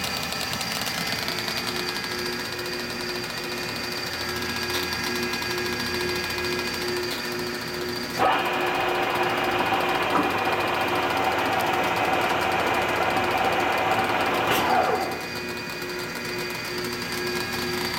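A Monarch 610 lathe's spindle motor runs steadily with a constant mechanical hum and whine, growing louder and busier for several seconds mid-clip before settling back to a steady drone.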